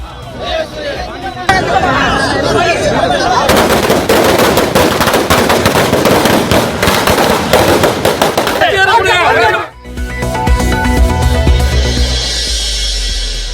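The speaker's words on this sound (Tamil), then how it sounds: "வாக்கு எண்ணிக்கை நடைபெற்ற மையத்திலும் திமுகவினர் பட்டாசு வெடித்து கொண்டாட்டம்" Dense, rapid bursts of firecrackers crackling continuously, loud and close, with crowd noise underneath, then a brief lull before more popping resumes, at an election vote-counting centre celebration in Tamil Nadu.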